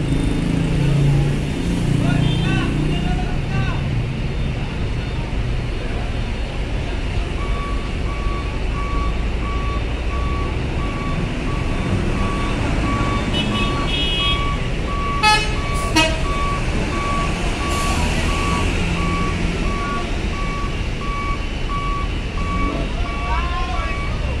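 Trucks reverse onto the KMP Joy ferry during loading at Bakauheni port, with a steady, repeating reverse beeper over loud, continuous engine rumble and harbor noise.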